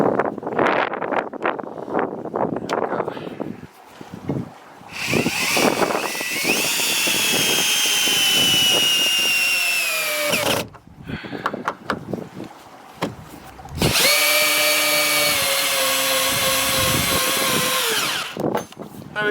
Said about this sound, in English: So I need to just put that on the drill